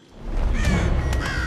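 Crows caw in alarm at a fast-moving player in the Thief stealth game, two or three harsh calls rising over a steady low ambient rumble.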